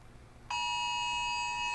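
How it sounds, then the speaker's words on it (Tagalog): An electronic alarm goes off indoors during a typhoon, cutting in suddenly as a steady, loud, ringing tone that holds without a break. "Okay, alarm na naman."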